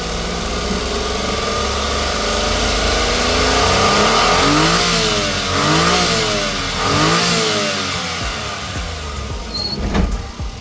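The engine of a non-turbo Suzuki DA17V van with an automatic transmission is revved hard several times, its pitch climbing and falling in repeated surges over a steady idle, close and loud.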